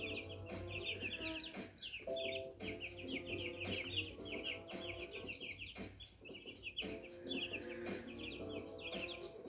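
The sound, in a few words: baby chickens clucking in cage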